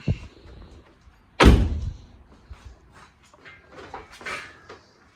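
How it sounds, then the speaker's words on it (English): A single heavy thunk of a Ford Focus car door shutting, loud and close, followed by quieter shuffling and faint movement sounds. "Let's shut the door."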